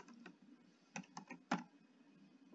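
Fingers typing on a computer keyboard, a few quick close clicks followed by a sharper keystroke, quiet and alone against a faint hum.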